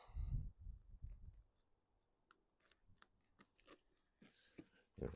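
Scissors or a blade snipping and slicing through a cardboard product box, a run of quiet crisp cuts and clicks with soft rustling in between, close and faint, with no talking.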